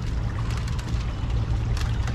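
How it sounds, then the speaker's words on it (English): A battery-powered toy boat runs on water with a steady, close, loud motor whine over low rumbling and splashy water noise, constant throughout. "We're here on my battery powered toy boat and we're looking for turtles"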